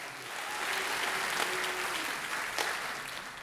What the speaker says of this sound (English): quick round of applause for our great guests here.